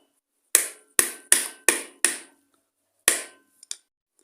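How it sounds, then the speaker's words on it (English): A screwdriver prying a seal out of a failed engine makes six sharp, close metallic knocks in an uneven rhythm, each ringing briefly, then two faint small clicks at the end, with no talk. "You can take a screwdriver, pop the seal out"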